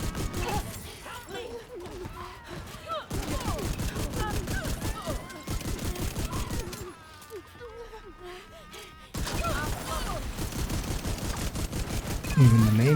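Heavy, sustained gunfire and rocket-launcher blasts in a video game battle crackle in dense, rapid bursts, briefly thinning midway before surging back, with voices talking over the barrage.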